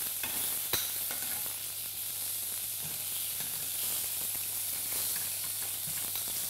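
Herb-encrusted lamb chops sizzling in a pan, just flipped, with butter frothing nearby: a steady close sizzle with scattered spits and pops, one sharp clack early, no speech.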